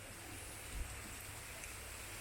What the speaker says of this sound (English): Came down to the beach and it started pouring down rain.